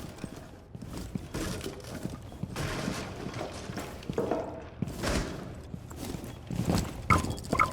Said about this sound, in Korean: 지금 발소리 1층 같거든요